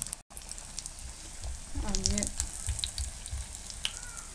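Vegetable cutlets fry in a pan of oil in a home kitchen, a steady soft sizzle under a voice, with a few faint utensil clicks and light handling noises near the end.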